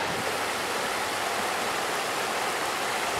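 A wadeable trout river flowing close to where it meets the ocean gives a steady, loud broadband rush of moving water, continuous and even throughout with no voices.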